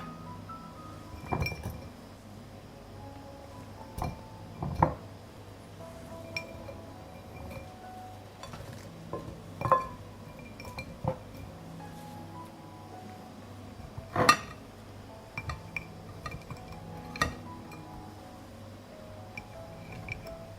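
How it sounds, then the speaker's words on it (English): Onion, pepper and tomato pieces go into glass jars one after another, bringing sparse clinks of glass and soft wet drops against a quiet room, with several sharper taps scattered through the stretch. "Now I will alternately add onions, peppers, and tomatoes."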